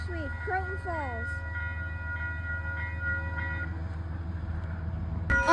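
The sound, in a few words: passing train, probably an Amtrak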